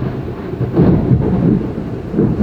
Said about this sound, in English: You hear that thunder happen right when I said that?